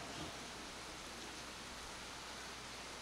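Heavy rain pours in a dense, constant hiss that stays even and unbroken, with no voices over it.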